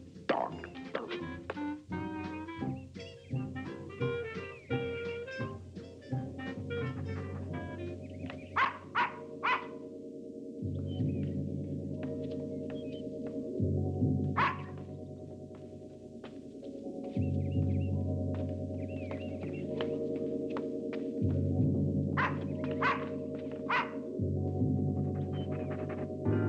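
A dog barks repeatedly in quick bursts, mixed with yips and whimpers, loud and close, in a 1978 classic horror film.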